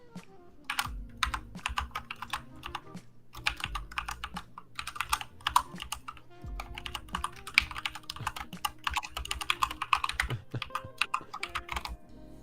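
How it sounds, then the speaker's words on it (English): Rapid clattering keystrokes on a computer keyboard, close and steady in uneven bursts with brief pauses, with no talk over them. "That keyboard."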